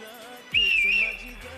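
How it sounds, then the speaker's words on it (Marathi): A whistle blown once on a film shoot, a single loud sustained shrill tone lasting about half a second over faint background sound. "वाजव शिट्टी"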